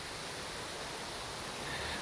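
Steady broadband roar of water pouring down a tall waterfall of roughly 60 feet in a jungle, running at reduced flow; continuous and even, with no voices.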